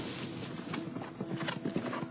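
Racehorse hooves clip-clopping at a steady walking rhythm on a training yard, close and clear amid background hum, with a faint whinny-like tone and no talking.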